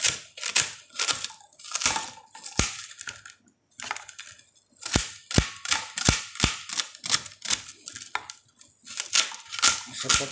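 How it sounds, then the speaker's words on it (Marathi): A knife chops onions finely on a board, four to five onions cut small, in a steady run of close, sharp, rhythmic knocks with short pauses between bursts. "अशा प्रकारे 4 ते 5 कांदे एकदम बारीक चिरून घ्यायचे आहेत"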